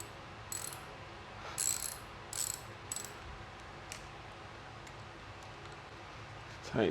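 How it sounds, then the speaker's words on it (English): Ratchet clicking in short bursts while a bolt is tightened during a headlight install on a Ducati Monster motorcycle; brief, close, moderately quiet clicks separated by pauses over a low background hum. "Tighten that down."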